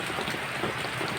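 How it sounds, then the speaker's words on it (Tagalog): Heavy rain pours steadily in a dense, close hiss of drops striking surfaces, with no talking. "gabunok ang ulan"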